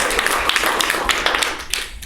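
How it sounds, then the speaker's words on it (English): A studio audience applauding as a guest walks onto a talk-show stage, a dense burst of close clapping that stays even, then thins slightly toward the end. "I want you to welcome with applause to the stage Nancy Williams"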